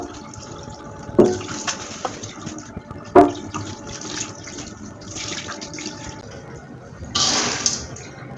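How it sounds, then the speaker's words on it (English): Water drains and splashes from a bowl of washed dried corn in a home kitchen, a soft running trickle with a few sharper splashes and a louder pour near the end, fairly close. "So this is all the debris from my corn. I'm just going to drain that out."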